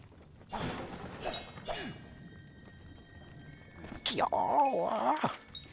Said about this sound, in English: Smashing things with my rusty sword